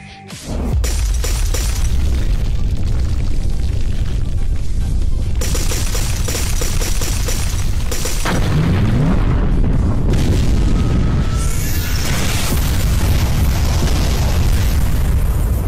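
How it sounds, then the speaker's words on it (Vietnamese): An arena explodes in an animated fantasy battle series, a loud, sustained roar of booming blasts and crackling bursts that rolls on for the whole stretch with no voices. "Chỉ trong nháy mắt, thần thoại lôi đài trong nháy mắt nổ tung"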